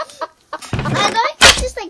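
A chicken in a Roblox game makes a string of clucks and squawks, loud and near. A louder burst comes near the end, and a voice is heard over part of it.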